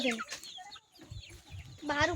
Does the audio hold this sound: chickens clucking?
yes